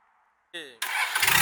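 A Hino WO4D diesel engine cranks after a moment of near silence, with a brief whirring starter note before the motor catches into a loud, dense rumble close up, all within about a second and a half.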